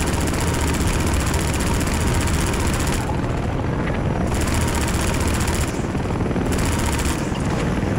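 Helicopter in the Half-Life 2 video game, a loud, steady rotor and engine roar holding throughout with dense broadband thudding, close and continuous with no talk over it.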